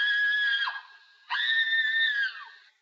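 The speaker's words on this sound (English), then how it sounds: "That was the mother screaming." A woman screaming, two long, loud, piercing shrieks separated by a brief gap, heard alone and close.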